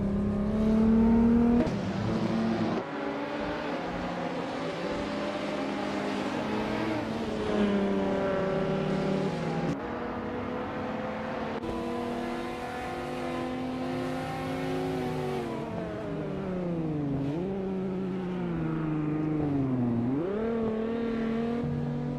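Race cars in a racing video game: a continuous layered engine drone with several cars revving, shifting pitch up and down through corners, loud and steady throughout with no talking.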